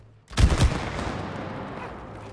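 Gunfire in the video game It Takes Two: a sudden loud burst of rapid shots, then a sustained noisy rumble of continued firing that trails on without speech.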